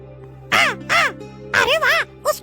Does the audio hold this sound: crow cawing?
yes